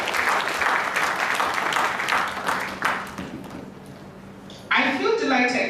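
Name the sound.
audience applause for a guest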